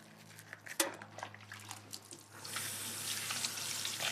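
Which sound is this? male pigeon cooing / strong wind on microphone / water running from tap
water running from tap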